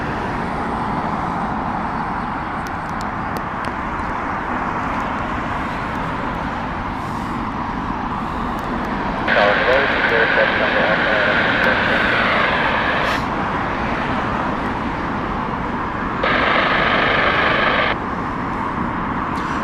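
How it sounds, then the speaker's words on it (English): A delayed Qatar-route Boeing 777 jet airliner from Doha arriving at Heathrow in crosswinds, a broad steady engine roar with rushing wind, continuous and fairly loud across the whole stretch. "So we do have the Doha flight, 777, that is delayed, but it's coming in whilst we're filming"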